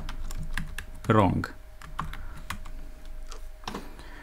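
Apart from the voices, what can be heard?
typing code on a computer keyboard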